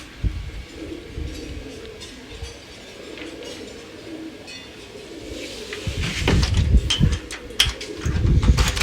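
Domestic pigeons in a loft, a red cock and a hen paired for breeding, give soft cooing calls under low rustling, with sharper flutters and clinks growing louder near the end.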